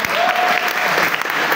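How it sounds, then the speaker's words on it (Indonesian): Audience applause at an Indonesian campus seminar, a dense, loud burst of clapping from a crowd that carries steadily throughout. "terima kasih tepuk tangan untuk kita semua"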